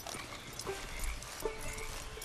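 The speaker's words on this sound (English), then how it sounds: "So now we can actually lead the horse" Hooves of a horse being led at a walk clip-clop softly in Red Dead Redemption 2, a few faint irregular steps over low outdoor ambience.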